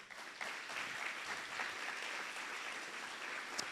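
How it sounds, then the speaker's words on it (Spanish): A church congregation applauds God during a Spanish-language sermon, a soft, distant, steady wash of clapping in a reverberant hall lasting a few seconds with no voices over it. "Un aplauso a nuestro Dios, amados hermanos."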